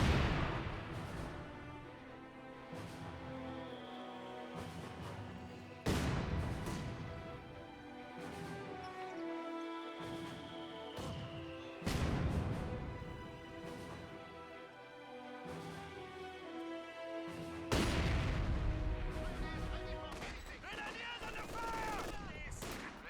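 Company of Heroes 2 battle with heavy machine-gun fire and mortar blasts, a dense, continuous roar of rattling bursts and booming impacts with sharp loud hits every few seconds, and a commentator talking over it.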